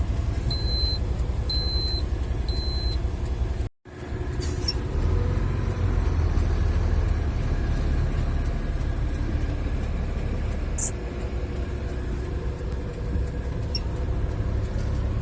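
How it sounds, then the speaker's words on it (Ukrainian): Concrete mixer truck reversing up to a concrete pump on a building site: a rhythmic reversing beeper sounds at the start over a deep, steady diesel engine rumble that continues alone after a brief cut. "Машинка під насос здає."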